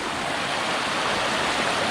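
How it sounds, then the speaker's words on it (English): Water running through a river over granite rocks, a steady broadband rush with no breaks, close and fairly loud throughout. "over here where the water is still running through it"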